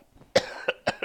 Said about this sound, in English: And of course, coughing because of it